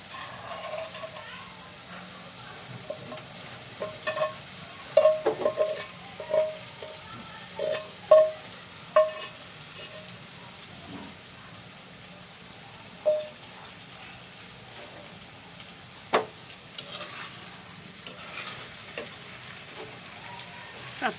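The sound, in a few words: taro stolons frying and being stirred in a pan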